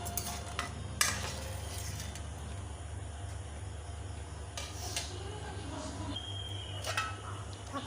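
A spoon stirs a small river fish curry with added water in a pot, scraping now and then against the metal over a low steady hum, with a few sharper clinks standing out.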